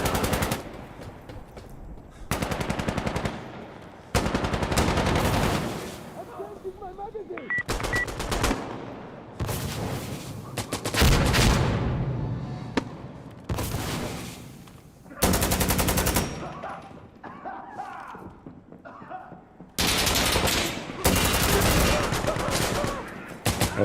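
Automatic and rifle gunfire from the tactical shooter Insurgency Sandstorm, loud bursts and rattling volleys coming in repeated clusters with short gaps, some shots close and sharp, others trailing off, with a voice speaking briefly between them.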